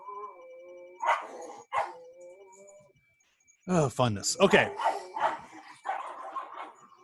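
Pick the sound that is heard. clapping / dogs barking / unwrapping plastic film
dogs barking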